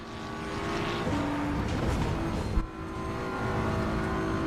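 A racing car's engine in Assetto Corsa EVO drones loud and steady at high revs while overtaking a Ferrari at the Nürburgring, with a brief shift near the middle, no talk.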